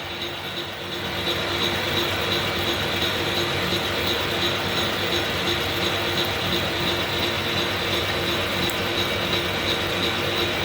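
A vintage metal lathe starts up and runs steadily, its turning gears giving a continuous clattering, ratcheting whir that stays loud and even after the first second.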